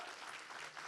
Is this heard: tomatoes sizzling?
no